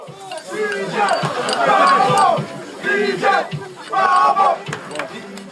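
Rugby players and coaching staff cheer in a club dressing room after Toulouse's French Top 14 title win, with loud chanting and shouting in repeated bursts that fill the close, echoing room.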